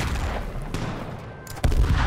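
Gunfire from the H1Z1 survival game on PS4, several dense, rough bursts running through the whole span, with a sharp loud report near the end.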